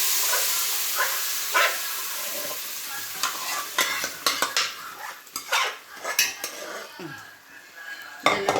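Moong dal being stirred and roasted in ghee in a metal pan for payasam, with repeated scraping clinks of a spoon against the pot over a soft sizzle, close and fairly loud, no talking.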